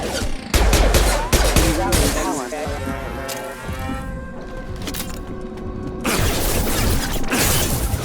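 Gunfire in the video game Mass Effect 2: loud bursts of rapid shots at the start and again near the end, with a tonal electronic hum and game effects sounding in between.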